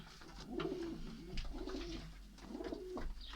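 Pigeons coo nearby in soft, repeated throaty phrases, three or four rolling calls in a row, with faint background noise and no talking.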